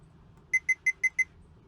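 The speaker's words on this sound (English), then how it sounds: "use my multimeter here, and we're going to check green to green" A multimeter gives five short, evenly spaced high-pitched beeps during a continuity check on shore power wiring, clear and close in an otherwise quiet room.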